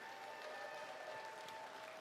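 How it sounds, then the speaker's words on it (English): Crowd applause at a giant vegetable weigh-off at Pumpkinfest 2023, given for a 90-pound watermelon: a faint, even wash of clapping that holds steady for two seconds. "Let's give him a nice round of applause."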